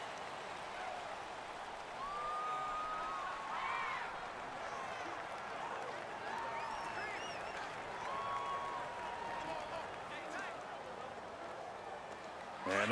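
A home crowd at an NFL playoff game between the Indianapolis Colts and San Francisco 49ers produces a steady, loud stadium roar that swells and settles, with faint whistle-like tones riding on top.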